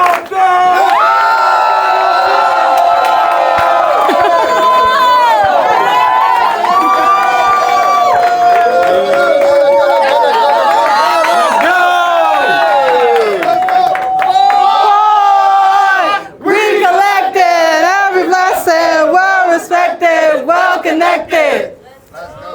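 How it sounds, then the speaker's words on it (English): A pregame crowd cheers, whoops and shouts loudly and continuously, voices rising and falling in excited waves, with a brief dip near the end before the roar picks back up. "I want everybody give a round of applause."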